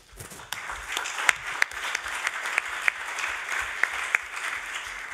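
Audience at a conference on public and private electric mobility breaking into applause, a steady spread of clapping that starts abruptly and keeps an even density, with a few close, sharp claps.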